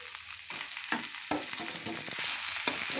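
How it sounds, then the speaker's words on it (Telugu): Mashed potatoes are stirred into a fried tempering of spices in a pan: soft sizzling under repeated close scraping and thumping of a spoon mixing the mash, with no talk. "తాలింపు మంచిగా ఫ్రై అయిపోయింది కదా, అందుకోసం దీంట్లో ఇప్పుడు వేసుకొని మంచిగా కలుపుకుంటానండి"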